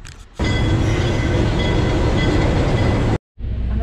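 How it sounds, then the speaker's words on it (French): An RER commuter train rushes past very close and loud, a dense, steady roar of wheels and carriages that cuts off suddenly near the end before resuming briefly. "C'est un putain de RER."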